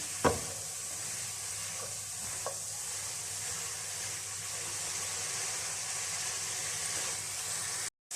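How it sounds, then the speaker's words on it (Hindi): Vegetables sizzle in a hot pan as a chicken tikka roll filling is cooked, a constant close hiss with a few light stirring knocks near the start, uninterrupted by voices. "थोड़ी सी देर वेजिटेबल्स को फ्राई करेंगे और फिर निकाल लेंगे।"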